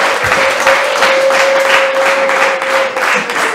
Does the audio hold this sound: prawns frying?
no